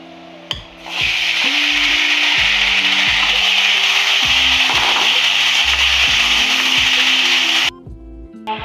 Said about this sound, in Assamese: এইখিনি সামগ্ৰী লৰাই থাকিব। তাৰপিছত কুটি অমিতাখিনি ঢালি দিব ইয়াতে।